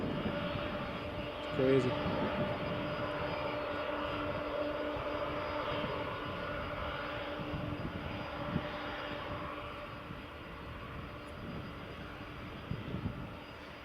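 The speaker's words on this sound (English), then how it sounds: "Another Aer Lingus is just on final approach" An Aer Lingus airliner on final approach at Edinburgh Airport gives a steady, broad engine roar that holds throughout at moderate distance, with brief talk early on.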